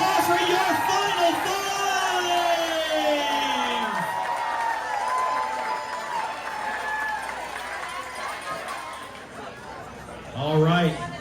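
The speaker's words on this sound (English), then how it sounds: "Let's get a big round of applause for your final" A crowd at the Hemingway Look-Alike Contest in Key West applauds and cheers the final contestants with loud, sustained clapping and whoops, while a voice talks over the din and the noise swells again near the end.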